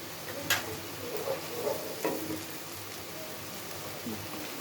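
Ginger paste fries in a pan for a pangas fish curry, giving a soft, steady sizzle with a few light scraping stirs and small clicks, fairly quiet and with no talking.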